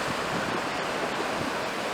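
Sea waves roll steadily at Sasihithlu beach near Mangalore, where a river meets the sea. The surf makes a loud, continuous wash with no voices.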